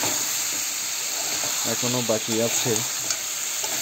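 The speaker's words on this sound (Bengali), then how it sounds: "আলুটা দিয়ে একটু কষানো শুরু করলাম।" Potatoes sautéed with country chicken hiss and sizzle continuously in a hot pan, with stirring noises underneath and a person speaking briefly over the cooking partway through.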